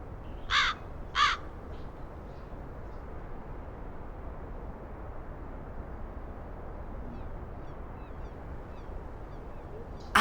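A game bird guarding its nest gives two quick harsh caws at the start over a steady low ambient rumble, then stays mostly quiet with a faint call at the very end.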